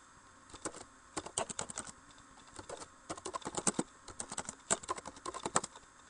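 Bursts of typing on a computer keyboard to enter text for PowerPoint slides: quick clustered key clicks in several runs separated by short pauses, close and fairly quiet with no talking.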